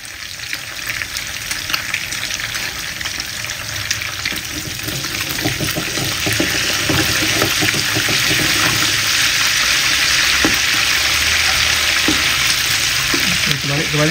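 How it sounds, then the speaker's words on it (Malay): Oil sizzles and crackles steadily in a pan as meatballs fry, the hiss growing fuller and louder, with occasional clinks of stirring. "Tinggal sekarang ni kita nak goreng, dan saya nak tengok gorengan saya."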